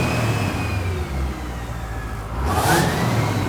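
A diesel-swapped Chevrolet Camaro with Precision turbos revs hard, a deep mid-range engine roar rising and falling up close, with a sharp whoosh spike near the end and no talking.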